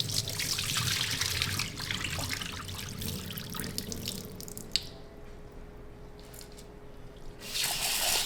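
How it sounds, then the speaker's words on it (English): Water runs and splashes as rice is rinsed in a sink, with a steady wet rush that stops briefly partway through and then resumes, close and fairly soft, with no talk. "You guys wash your rice, right?"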